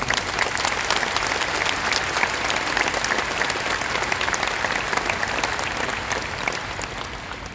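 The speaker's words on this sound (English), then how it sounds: "How about you join me in a round of applause for all these." Dense, loud audience applause at a 2019 university graduation ceremony, continuous crowd clapping that holds steady and tapers slightly at the end.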